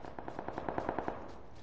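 Full-auto gunfire in PUBG on PS4, a rapid burst of about ten evenly spaced shots ringing out clearly on their own before trailing off.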